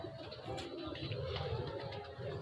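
Old Salaray Teddy pigeons coo softly in a low, continuous burble, fairly faint against a steady background hum.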